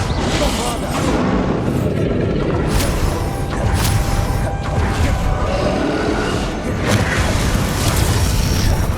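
Bombarda blasting spell detonates in the video game Hogwarts Legacy amid dense, loud battle noise, with repeated booming impacts and whooshes layered over continuous rumble.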